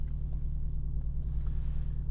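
A car engine idles steadily and close by, a smooth low rumble holding an even pulse with no revving and no talking.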